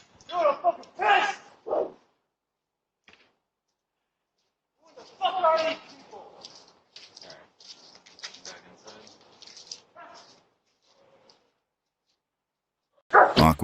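A dog barks in short bursts near a doorstep as an Amazon delivery arrives, with people talking around it and a sharp loud burst right at the end.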